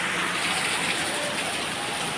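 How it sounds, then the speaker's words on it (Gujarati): Heavy monsoon rain pours down in a constant, loud, even hiss with no breaks. "આજે આ વરસાદ જુઓ"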